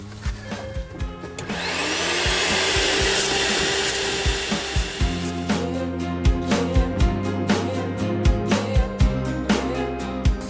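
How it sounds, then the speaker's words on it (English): Built-in vacuum cleaner inside a DAF truck sleeper cab whirs up to a loud, steady high-pitched roar, then gives way to a run of sharp clattering knocks and taps, close and without speech. "the inbuilt Hoover keeps everything shipshape on board"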